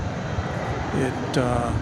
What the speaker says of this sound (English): Coming in from Montreal, Air Canada Flight 1071, Airbus A220.